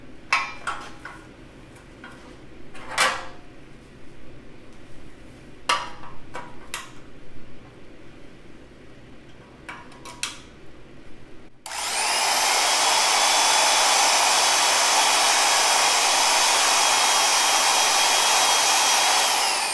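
Portable bandsaw mounted in a miter box cutting a chunk of maple wood: after several scattered clicks and knocks, a loud, steady, high whining motor hum starts abruptly and runs to the end.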